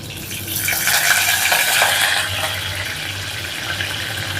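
Curry leaves, green chillies and mustard seeds dropped into hot oil in a clay mud pot, a steady bright sizzle that swells for a moment and then settles into continuous frying, with no talk.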